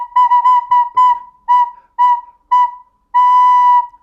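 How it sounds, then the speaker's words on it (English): Recorder notes played without tonguing, about seven soft-edged tones of the same pitch in an even rhythm, then one longer held note, clear and alone with no talking. "the difference is if I don't use my tongue, it sounds like this"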